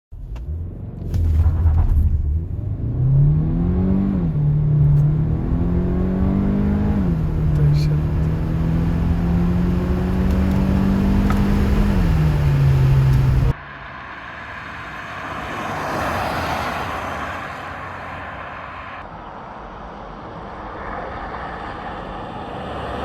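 An MG HS SUV engine revving and shifting up through gears as it accelerates, droning steadily, then dropping to a quieter rumbling cruise.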